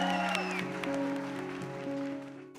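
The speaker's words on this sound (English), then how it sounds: "Clap for these guys." An audience applauds, a brief spread of clapping heard partly under tonal music or voices, moderately loud and steady before fading out at the end.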